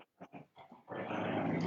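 A dog growls and whimpers in short broken bursts, then lets out a longer, louder sustained growling whine, close by, with no talk over it.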